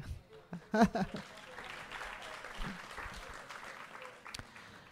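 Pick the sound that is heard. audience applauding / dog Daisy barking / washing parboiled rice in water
audience applauding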